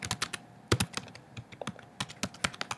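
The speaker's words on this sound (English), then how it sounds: "And then I'm going to type open." Keystrokes on a computer keyboard while entering commands in a Mac terminal, a quick uneven run of crisp, close clicks with short pauses between clusters.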